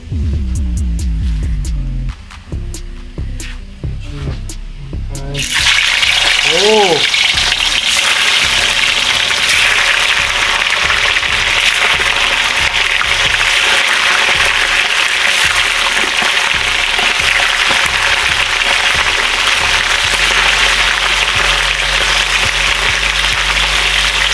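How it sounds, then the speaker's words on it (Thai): Pieces of snakehead fish go into a pan of boiling oil, setting off a loud, steady crackling sizzle that fills the rest of the clip after a few seconds of low hum and light clatter. "น้ำมันเราเดือดแล้วนะครับ เดี๋ยวเราใส่ปลากัน"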